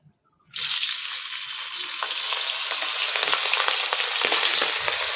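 After a moment of quiet, hot mustard oil bursts into a loud, steady sizzle and crackle as hilsa fish fries in a very hot wok, with occasional sharper pops.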